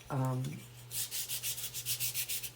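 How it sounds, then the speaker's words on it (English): A wooden sign and post are sanded by hand in quick, steady back-and-forth rasping strokes, close up and rhythmic, after a brief tonal sound at the start. "Now I'm gonna sand off"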